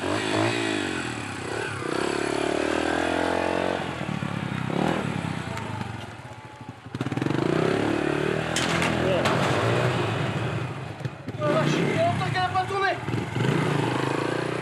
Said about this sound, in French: Il enfourche la moto de Jean-Denis.